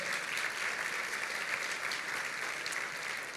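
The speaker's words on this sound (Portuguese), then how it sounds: "Dê um aplauso ao Senhor." A church congregation claps together in a sustained, even burst of applause, many hands close and fairly loud, filling the whole stretch without letting up.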